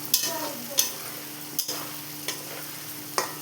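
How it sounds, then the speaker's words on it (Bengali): Paneer pieces frying in hot oil for a vegetable biryani, a soft steady sizzle broken by sharp scraping clicks of a spatula stirring the pan every half second or so. "আমি কিন্তু ভালোভাবে পনিরটাকে ভেজে নেব"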